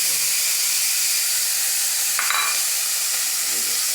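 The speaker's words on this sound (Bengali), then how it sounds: "একসাথে দিয়ে নাড়াচাড়া দিয়ে দিচ্ছি সবটা।" Fried chanda fish stirred in a pan with onion, garlic and green chili, a loud, steady hissing sizzle throughout with a brief scraping stir near the middle, close by.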